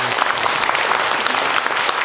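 Church congregation bursts into steady, dense applause during a Sunday morning worship service, a close, continuous wash of clapping filling the hall with no pause.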